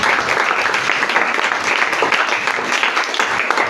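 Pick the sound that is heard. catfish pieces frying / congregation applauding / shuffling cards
congregation applauding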